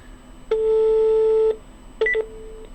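Electronic phone tones cut into a call: one long steady beep lasting about a second, then a short cluster of rapid dial-style beeps, clear and fairly loud over a quiet line.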